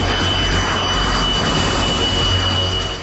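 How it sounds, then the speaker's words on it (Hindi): Pakistan Air Force F-16 fighter jets flying low over Islamabad make a steady, loud, continuous roar with a deep rumble that fills the whole stretch, with no voices. "लड़ाकू विमान की आवाज कान के पर्दों पर जोर मार रही थी।"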